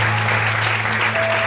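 A church congregation applauds loudly during a worship service, with continuous dense clapping and a steady low hum underneath.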